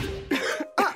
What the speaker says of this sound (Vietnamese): Cơn ho ngày càng tệ hơn.